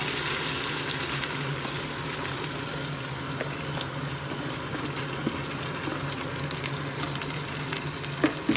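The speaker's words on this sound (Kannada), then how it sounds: "ಚೆನ್ನಾಗಿ ಫ್ರೈ ಆದಮೇಲೆ ಈರುಳ್ಳಿ ಅದಕ್ಕೆ ನೆನೆಸಿಟ್ಕೊಂಡಿರುವಂತಹ ಬಾಸುಮತಿ ಅಕ್ಕಿಯನ್ನು ಹಾಕಬೇಕು." Onions fry in a pan for mutton biryani, giving a steady close sizzle with occasional stirring scrapes throughout and no talk.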